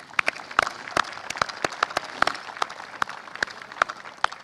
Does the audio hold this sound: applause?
yes